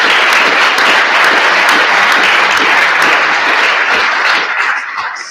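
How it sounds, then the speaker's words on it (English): Conference audience at the eBike Summit 2019 gives a loud, sustained round of applause, dense clapping that holds steady then thins out toward the end. "I think maybe a round of applause for everybody"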